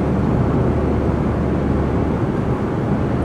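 2013 Ford Fusion Titanium with a muffler delete pulling uphill on the highway, giving a steady, loud, low exhaust drone blended with road and wind noise from inside the cabin, with no talking.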